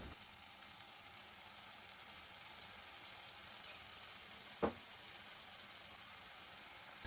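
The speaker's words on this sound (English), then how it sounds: "So I'm going to saute some garlic and some onions" Garlic and onions sautéing in a pan, giving a faint, steady sizzle with one sharp click or clatter partway through, no talk.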